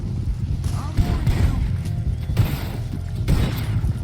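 Video-game gunfire during a jailbreak round: bursts of shots and booms in a busy firefight, several louder volleys around the one-, two-and-a-half- and three-and-a-half-second marks, with constant game noise underneath.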